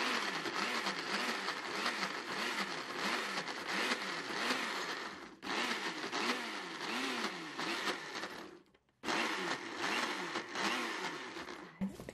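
A kitchen blender grinds corn with a few spoonfuls of corn cooking liquid for salad sauce, a loud steady whirring with rhythmic pulsing. The motor cuts out briefly twice and then starts again.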